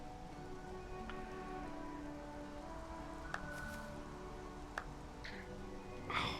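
Steady rain from the video game Xenoblade Chronicles forms a continuous soft hiss throughout, under game music and a few brief chimes, with no talk.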